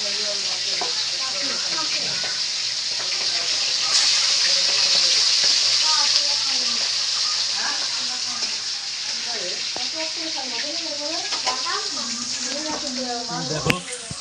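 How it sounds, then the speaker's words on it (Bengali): Large pomfret fish frying two at a time in a wok, a loud, steady sizzle of hot oil that carries on throughout while a person talks over it. "এখানে মাছ ভাজছে, পমপ্লেট মাছ রাত্রিবেলা করে নিয়ে আসলো"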